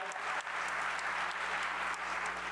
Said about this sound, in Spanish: ¿Qué tal si le damos un aplauso a todos ellos de bienvenida?